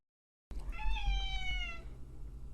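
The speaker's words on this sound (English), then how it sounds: "My cat is meowing because he's mad that I'm not playing fetch with him." A male house cat gives one long, drawn-out, whiny meow nearby, loud and clear, starting abruptly after silence and tapering off, with faint low room noise beneath.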